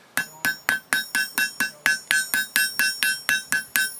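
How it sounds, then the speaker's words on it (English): A blacksmith's hammer strikes hot metal on an anvil in a steady, even rhythm of about fifteen sharp ringing blows, each leaving a brief metallic ring, close and loud. "Hammer."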